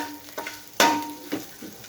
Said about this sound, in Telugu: పప్పులు కరకరలు ఆడుతుంటాయి కాబట్టి వేసాను